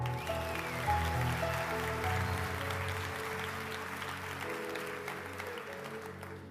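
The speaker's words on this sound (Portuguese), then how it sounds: "Quem pode aplaudir?" An audience applauds at a motivational talk, a diffuse wash of clapping that fades gradually under sustained background music.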